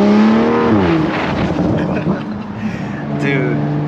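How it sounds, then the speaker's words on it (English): A 2020 BMW M340i with the B58 engine revs hard, with a rising engine note and sharp crackling pops from the exhaust, loud and close. "I can't get enough of the backfires"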